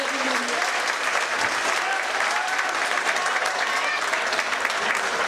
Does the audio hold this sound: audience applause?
yes